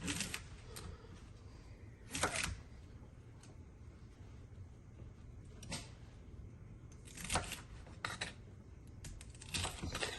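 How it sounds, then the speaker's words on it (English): Knife chopping fresh asparagus into 1-inch pieces on a cutting board, a handful of sharp, separate chops spread across a quiet kitchen background. "So I'm going to cut them in 1-inch pieces."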